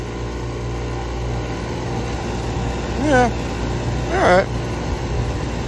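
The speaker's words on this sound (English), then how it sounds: "Wait for that blower to kick on." A rooftop gas heating unit runs with a steady low engine-like hum, and its blower kicks on with rising whirs as a nearby voice speaks briefly.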